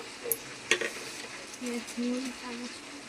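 Mutton pieces frying with masala in a pan while being stirred, a low sizzle with soft scraping strokes, a couple of sharp clicks of utensil against the pan early on, and steady bubbling hiss toward the end.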